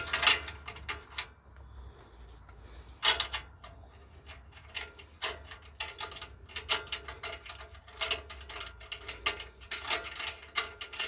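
A ratchet clicks steadily as it tightens exhaust clamp bolts on a Nissan Frontier, with close, repeated bursts of metallic pawl ticks and short pauses between strokes.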